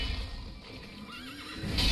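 In Sekiro, Gyoubu Oniwa's horse lets out a wavering neigh amid ongoing battle noise and clip-clopping hooves, loud and near.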